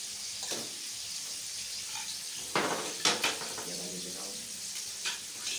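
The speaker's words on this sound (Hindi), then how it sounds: "भुन गया इसका तेल भी अलग हो गया है अब इसके अंदर मच्छी डालते हैं" Fish is added to a pan of hot, well-fried masala and oil for a fish curry, giving a soft steady sizzle with a few louder spatters and clatters of utensils against the pan.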